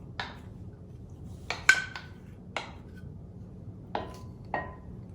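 A spoon stirs sugar and melted butter in a bowl, giving several sharp clinks and scrapes against the bowl at irregular intervals, quiet and close, with no talking.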